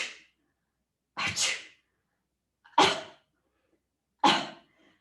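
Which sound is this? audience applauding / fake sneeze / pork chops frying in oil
fake sneeze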